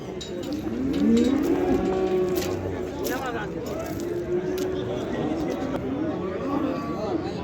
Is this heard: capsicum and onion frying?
no